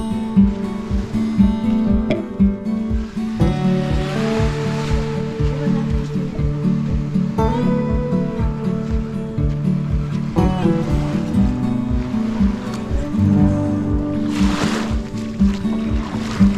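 Sea waves wash along the shore at a beach resort, a continuous watery roar with low droning tones running underneath, and no talk.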